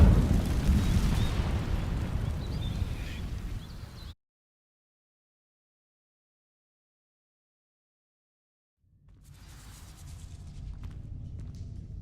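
The Incendio fire spell in Hogwarts Legacy sets dry vines ablaze with a loud, rumbling whoosh of flame that fades out. Silence follows, then a quieter low crackling roar returns.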